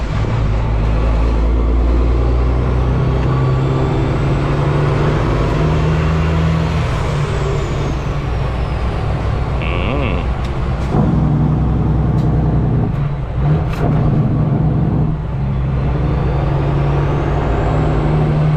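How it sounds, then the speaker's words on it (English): A big reefer-container truck engine rumbles loudly and steadily, with a rising turbo whine and occasional hisses and clanks over the heavy low drone. "The turbo sounds amazing on this truck."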